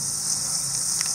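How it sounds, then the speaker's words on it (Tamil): Bright continuous sizzling of hot oil close by as mustard seeds and chana dal fry, with a few sharp pops of mustard seeds spluttering near the end. "கடுகு வந்து பொரிஞ்சு வரட்டும்."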